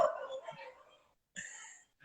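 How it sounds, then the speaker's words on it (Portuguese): Dogs in a residential street bark in the distance, a short burst of yips followed by a pause and another bark, faint and somewhat far away. "Vocês estão ouvindo agora os cachorros da minha rua"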